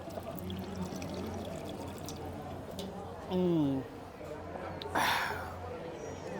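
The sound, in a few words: water pouring from a drinking-water truck tap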